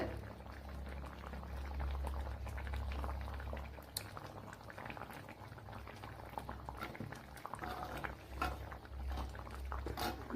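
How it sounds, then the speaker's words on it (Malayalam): A pot of vaala (wolf herring) fish curry with onion bubbles and simmers quietly with soft popping, over a low steady hum. "എല്ലാം തിളച്ച് നല്ലതുപോലെ കുറി വന്നിട്ടുണ്ട്"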